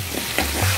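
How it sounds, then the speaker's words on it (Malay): Pickled shallots and garlic fry in a pan, giving a short burst of close sizzling with a couple of scraping stirs and no voices. "bawang merah dan bawang putih yang telah dijeruk terlebih dahulu so kita masak masak terus"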